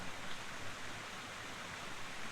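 Water pours steadily into a cooking pot at an outdoor jungle campsite, making a continuous soft, splashy rush with no other sounds.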